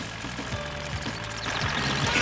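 The Little Red Tractor's engine runs with a steady, rough mid-range rumble that swells slightly louder toward the end.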